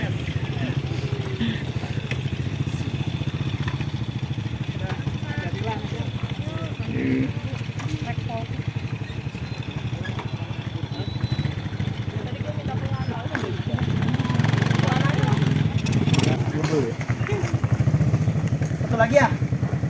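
A motorcycle engine idles steadily nearby, a low continuous chugging throughout, while people talk over it.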